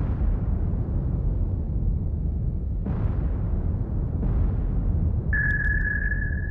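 Naval shells fired and exploding in the War on the Sea game, IJN campaign: a continuous deep rumbling roar with two fresh booming impacts partway through, then a steady electronic tone rising in over the rumble near the end.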